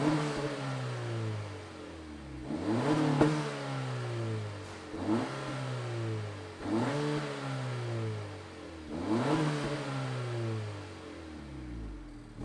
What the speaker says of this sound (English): let's fire this up and hear what the Si sounds like